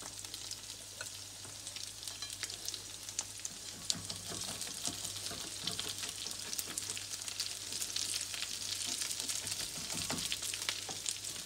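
A potato galette stuffed with vegetables and meat fries on low heat, giving a soft, continuous sizzle with scattered crackles and pops, fairly close and quiet, with a low steady hum beneath.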